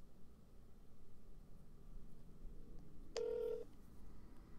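A cell phone sends out one short, clear dialing tone partway through while setting up a call, standing alone over a steady low background hum.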